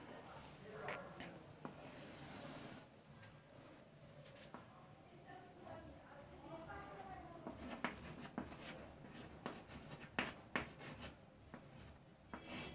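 Pen scratching across paper while a math definition for a class 12 matrices lesson is written out, soft irregular strokes and taps at low volume with a faint background hum.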